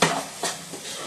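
Poha (avalakki) being stirred and tossed in a pan for a Bidar-style breakfast, with a few short scraping, clinking strokes of a spoon against metal in quick succession, close and fairly quiet.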